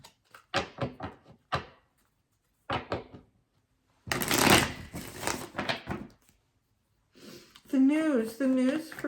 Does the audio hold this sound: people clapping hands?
no